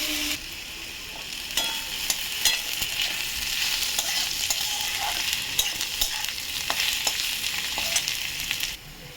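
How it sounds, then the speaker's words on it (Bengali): Potatoes and onions fry with a steady sizzle in a pan, with occasional clinks and scraping taps of a spatula as they are stirred; no voices. "আলুটা পেঁয়াজের সাথে ভেজে নেব ভালো করে"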